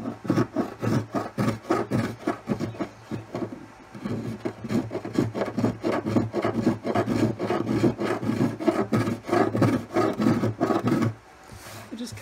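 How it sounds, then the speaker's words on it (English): Small convex-soled planer smoothing wood on an Epiphone FT-365 acoustic guitar during a repair, making rapid repeated rasping strokes in a steady rhythm, close and clear, ending in a brief pause. "And this little planer here, it's got a convex shape to it, is nice for getting it real nice and smooth."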